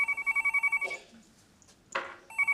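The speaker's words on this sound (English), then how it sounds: "this will be Peter ringing to say that he's not speaking to us." A telephone bell rings in two loud, rapid trilling bursts separated by a short quiet gap, close by in an indoor scene, with no voices.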